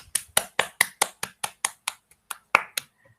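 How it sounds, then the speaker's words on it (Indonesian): About a dozen sharp, evenly spaced claps close by in a classroom, a steady rhythmic clapping for group 1 that thins out toward the end. "Tepuk tangan dulu untuk kelompok 1."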